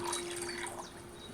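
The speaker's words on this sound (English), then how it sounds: "So, what did you pour in there? Wine, of course." Wine poured from a jug into a cauldron in the video game Kingdom Come Deliverance II: a brief, soft, steady trickle of liquid, fairly quiet and heard alone.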